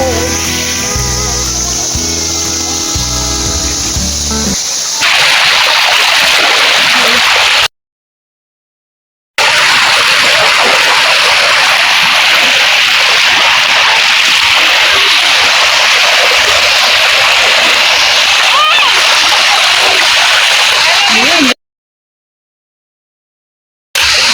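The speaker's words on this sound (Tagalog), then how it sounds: "Ayan na yung waterfalls na yan." A waterfall at Dinadiawan beach pours and splashes in a loud, continuous broadband rush, close by, after a short stretch of music at the start, with two brief dropouts of silence.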